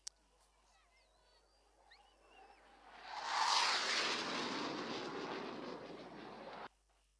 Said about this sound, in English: if you look to your left and right, you'll see the aircraft as mentioned